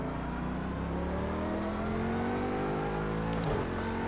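Race car engine in Project CARS 2, a steady high-revving drone climbing in pitch as it accelerates, then a quick gear shift near the end, loud and close with no talk.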